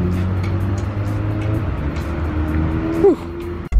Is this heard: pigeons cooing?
no